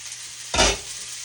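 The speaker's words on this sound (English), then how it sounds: "Let me toss these asparagus here, the onions, before they burn." Asparagus and onions sautéing in a hot pan give a steady hiss, broken by one brief loud swish and sizzle burst as the vegetables are tossed, close up with no voices.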